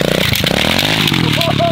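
Modified drift motorcycle engine revved hard at full throttle, a loud, close, buzzing roar lasting under two seconds and rising in pitch toward the end.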